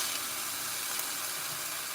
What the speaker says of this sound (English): Now we're going to add those onions in there.